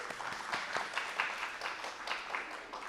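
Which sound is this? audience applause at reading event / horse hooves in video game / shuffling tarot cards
audience applause at reading event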